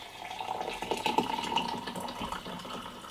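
Hot water is poured over lemon zest for a hop-free lemon gruit beer, making a soft, continuous splashing pour that swells slightly midway and then settles, with no talking.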